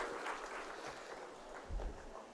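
Audience applause at a college engineering orientation day, a steady wash of clapping for a young woman that runs the whole length at moderate level, with a few voices mixed in.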